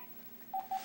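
Two short, clear telephone keypad tones beep in quick succession over a quiet background, as a number is dialed on a phone.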